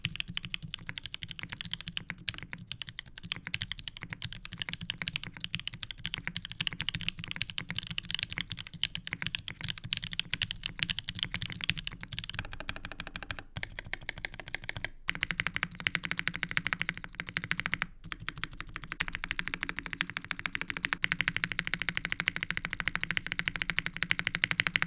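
Steady, continuous typing on a Tenet 70 mechanical keyboard fitted with TX stabilizers and silicone dampening, close and clear, running without pause and with no talking.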